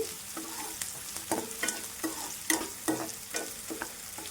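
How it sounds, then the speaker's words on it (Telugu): Veg manchurian frying briefly in a pan, close sizzling with a series of stirring scrapes and knocks at an uneven rhythm, no voices. "చూసారు కదా, కొంచెం ఫ్రై అయితే చాలు, మరీ ఫ్రై అవసరం లేదు"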